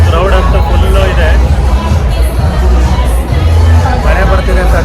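Crowd hubbub fills a packed Bengaluru stadium before an RCB cricket match, a steady loud wash of many overlapping voices with no pauses, close and continuous throughout.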